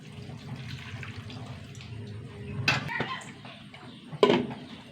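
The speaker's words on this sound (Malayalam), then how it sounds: "ഇതിലേക്ക് കുറച്ച് വെള്ളം ഒഴിച്ച് കൊടുക്കട്ടെ." Water poured from a vessel into a pot of Palakkad-style vegetable curry holding cucumber and yam pieces, giving a steady close splashing wash with a couple of louder sloshes near the end.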